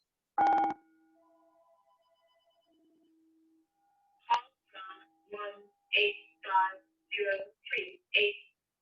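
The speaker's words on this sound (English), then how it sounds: "So I'm going to use the bell to start." A meditation bell struck once to open a mindfulness session, a bright ringing tone with a long fading resonance, followed by someone speaking softly.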